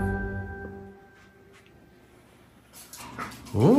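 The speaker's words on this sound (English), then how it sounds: "You are one handsome pup, Lucky." A Miniature Schnauzer whimpers softly and briefly in a quiet room after grooming, followed by a few faint rustles and a short higher whine near the end.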